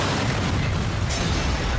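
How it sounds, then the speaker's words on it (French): A car bomb detonates in a parking garage beneath a Turkish consulate in Melbourne, a sustained roaring blast wash filling the space, loud and dense with no voices. "Une voiture a explosé dans un parking sur les locaux du consulat de Turquie."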